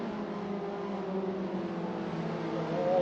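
Skip Barber race cars drive down the straight at Suzuka in Assetto Corsa, a steady, close engine drone with harmonic tones that climb slightly near the end as the revs rise.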